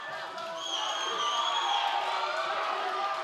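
UFC arena crowd at a bantamweight bout roaring and cheering near the end of the fight, a sustained wash of shouts and whoops with no talk over it.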